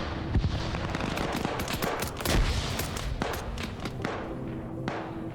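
Dense bursts of automatic gunfire and scattered single shots from a firefight in the military game Arma 3, sounding somewhat distant and continuous with heavy thuds, no talk.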